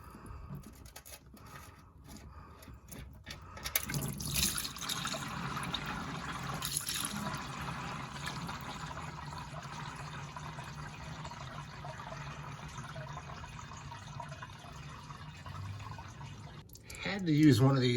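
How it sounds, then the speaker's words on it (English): Old engine oil draining out of a 1967 Pontiac Firebird's oil pan after the drain plug comes out, a steady close pouring and splashing stream that runs without break and swells near the end. "So we're gonna pull that drain plug, drain this oil out"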